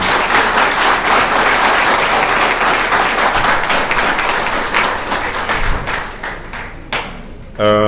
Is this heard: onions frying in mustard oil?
no